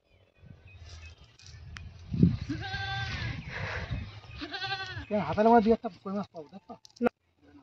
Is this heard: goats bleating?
yes